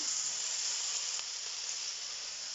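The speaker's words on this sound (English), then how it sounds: "that's starting to sizzle and do its" Steady, bright sizzling of ginger frying in a hot pan, a continuous hiss with no talking.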